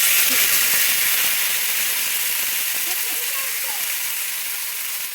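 Boiled Maggi noodles dropped into hot oil, giving a loud, steady sizzling hiss that slowly eases off, close by, with faint sounds of handling the pan.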